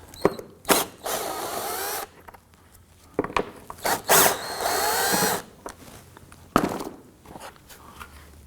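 Ten-millimeter bolts being loosened and removed from the front bumper of a 2016-2023 Toyota Tacoma, heard as several short whirring tool bursts separated by quiet gaps, with light handling clatter.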